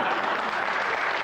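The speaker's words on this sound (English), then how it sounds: "A round of applause for your car." Studio audience applause on a comedy panel show, a steady dense wash of clapping filling the whole stretch at even loudness with no voices over it.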